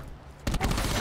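Gunfire in a Call of Duty bomb match erupts suddenly after a quiet moment, a loud burst of rapid shots that fills the rest of the second.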